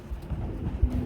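Pigeons at a pigeon farm coo low and steadily through a short stretch, a dense murmur of several birds close by with one brief louder thump near the end.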